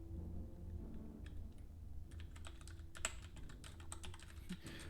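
Computer keyboard keys tapped rapidly and irregularly to steer a 1970s–80s space trading game, a busy clatter of close clicks over a low steady hum.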